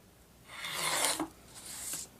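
Woven fabric bonded to bonding fabric sliced along a ruled edge, a soft rasping cut that swells for about a second, pauses, then returns briefly, close and quiet with no talk.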